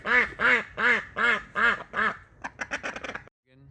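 Ducks quack in a backyard enclosure in Oregon. Six loud, evenly spaced quacks come first, then a quick run of shorter, softer quacks, all close by, with no talking.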